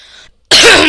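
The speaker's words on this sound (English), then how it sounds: "Now that I've got all the coughing out of me." A loud burst of coughing from a man playing Happy Wheels, close to the mic and alone, following a quieter stretch of sound and a brief gap.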